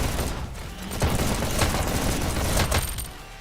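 Sniper fire and battle noise in a VR e-sports match with Canyon and Waterway maps, a dense rumbling blur of shots and booms with sharp bursts around the middle.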